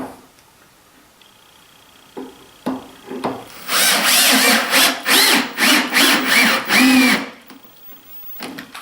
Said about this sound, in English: So I'm driving the last 2 screws here.